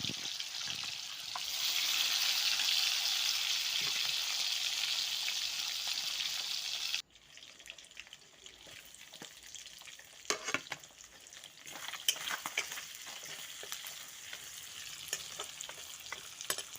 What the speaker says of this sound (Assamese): এনেকৈ মাছ ভাজি লৈছোঁ